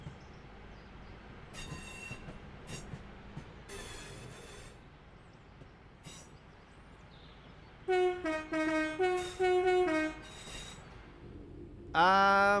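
Train arriving in the Train Sim World 5 game, rumbling under a series of loud horn blasts and sharp wheel squeals, with faint clanks earlier and a final strong horn at the end.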